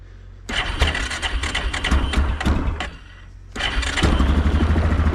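Four-wheeler ATV engine cranking and catching on a cold morning, firing loudly up close, briefly dropping, then restarting into a steady, rumbling idle.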